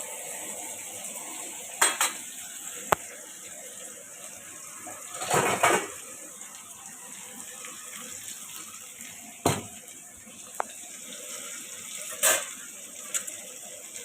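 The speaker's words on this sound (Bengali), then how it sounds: "আলুটা হালকা ফ্রাই হবে।" Potatoes lightly frying in a pan for a paneer curry give a steady, close hiss of sizzling, broken by a few sharp clinks and scrapes of a utensil against the pan.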